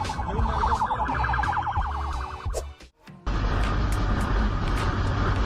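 An emergency vehicle siren wails up and down over heavy road noise during a road rage incident, then gives way to a loud, rumbling roar.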